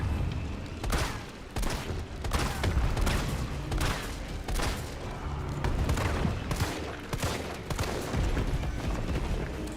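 Rapid bursts of gunfire from the video game Resident Evil 3 Remake, loud and dense, repeating in uneven volleys throughout with booming impacts.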